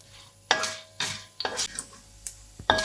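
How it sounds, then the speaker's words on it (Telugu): Cut dried red chillies and tempering spices drop into heated oil in a pan, giving several short, sharp sizzling bursts with clinks of a spoon between them, close and fairly quiet. "ఈ హీట్ అయిపోయిన ఆయిల్లో నేను తాలింపు వేస్తున్నాను"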